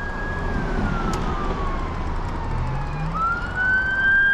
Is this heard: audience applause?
no